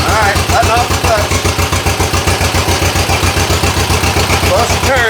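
After a first start, an engine chugs in a fast, even rhythm close by as the clutch is let out and the final drives spin. Faint mechanical whirs ride over the loud pulsing, with talk in between.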